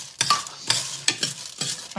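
Food frying in a small amount of cooking oil in a pan while being stirred, loud close sizzling that swells in repeated bursts with each stir, about four surges over two seconds, no voices.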